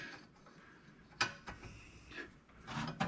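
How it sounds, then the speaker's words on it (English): A ratchet wrench clicks and turns on a rear wheel bearing bolt of a 2017 Buick LaCrosse, a few short quiet mechanical bursts of ratcheting with scraping in between, close and low in level. "I got a ratchet right here."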